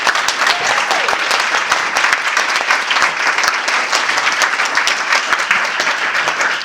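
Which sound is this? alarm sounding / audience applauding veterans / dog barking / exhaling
audience applauding veterans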